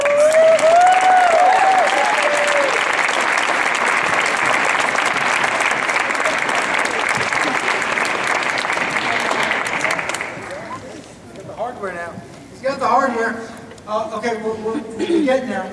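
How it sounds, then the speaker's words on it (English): A crowd gives a sustained round of applause after a plaque presentation, loud steady clapping for about ten seconds before it dies away and speech takes over. "So we can give him a round of applause."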